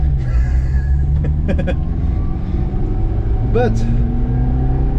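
A 1994 Subaru Sambar kei van's small engine drones steadily at high revs in third gear, a loud continuous hum with a voice talking over it and a brief whistling tone near the end.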